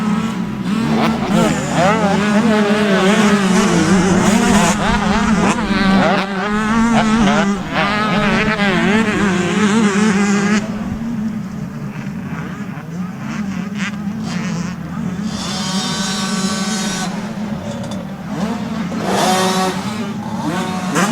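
Motocross motorcycles, including a Kawasaki, race at a Winchester Speedpark MX event, engines revving and droning loudly and continuously with shifting pitch, under steady commentary from a speaker.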